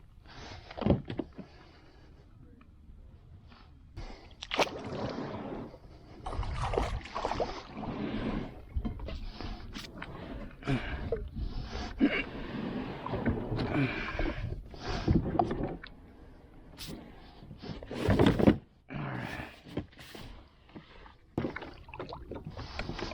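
A small boat paddled on a lake at Cranes Mill Park, Canyon Lake, Texas, with repeated close splashing strokes and knocks against the hull, irregular and fairly quiet.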